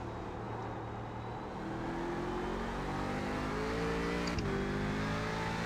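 A prototype race car engine in iRacing at Daytona revs and accelerates through the gears, a continuous rising drone with a sharp shift near the end, loud and unbroken by any voices.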